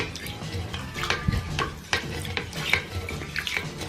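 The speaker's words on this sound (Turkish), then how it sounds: "İlk önce tuvaletin içerisinde birikmiş olan suyu fırça yardımıyla pompalayarak en az seviyeye indirmem gerekiyor." A toilet brush pumps water out of a toilet bowl, producing continuous sloshing and gurgling splashes with repeated plunging strokes, close up and fairly loud.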